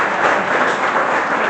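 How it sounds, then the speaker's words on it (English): A crowd gathered for a 13-year anniversary charity event applauds loudly and steadily, a dense wash of many hands clapping close by with no talk over it. "Please give everybody here a huge round of applause for"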